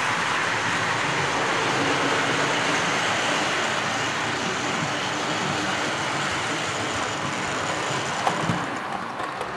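A Hornby Triang model gas turbine locomotive runs along the track with a continuous, fairly loud rolling rumble and a slight rise in clatter near the end.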